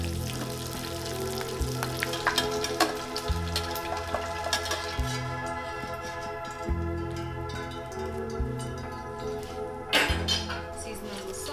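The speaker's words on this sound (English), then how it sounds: "I'm going to quickly fry off some sage to scatter on top" Sage leaves frying in a pan of oil, a steady crackling sizzle running throughout with light clinks of pan and utensils and ticking taps on top, close and moderately loud.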